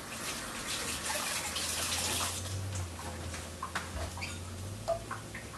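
Green onions are rinsed under a running kitchen tap, a steady splashing hiss of water for about three seconds that fades into a few light drips and small clatters.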